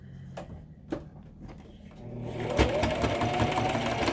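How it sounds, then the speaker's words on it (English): A sewing machine stitches through several layers of fabric on a cloth face mask, a quiet start building into a steady, close, rapid mechanical rattle and whir. "where you're hearing that sound, it's sewing through multiple layers"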